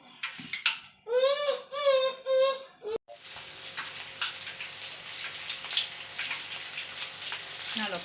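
Taro-leaf bhajiya fritters fry in hot oil with a steady, broad sizzle over the last five seconds. A child's wailing cry comes first, then the sizzle continues alone at close range.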